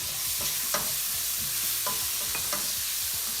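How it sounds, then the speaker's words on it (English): Tomatoes go into a pan of frying onion and ginger garlic paste for a vegetable jalfrezi curry, giving a steady close sizzle with a few short stirring clicks and scrapes throughout. "Here goes my tomatoes."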